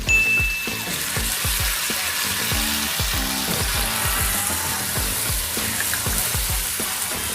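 Onion and garlic sauté in a hot pan with a steady, close sizzle and a fast crackle that holds throughout, alone and with no talking.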